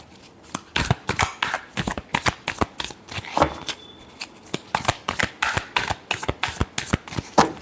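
Tarot cards being shuffled by hand in a quiet room, a long run of crisp riffling bursts in an uneven rhythm, close and fairly soft.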